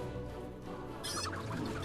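Chicken unit attacking in Age of Wonders III, a brief burst of squawking clucks standing out over a steady game background, loud and close for about a second.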